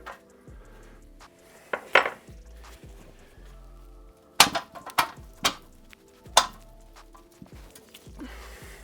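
Tightening bolts on 5th Gen 4Runner spindle gussets: scattered metallic clinks and taps of a wrench and hardware, a few sharper knocks in the middle, with quieter handling noise between them and no talk.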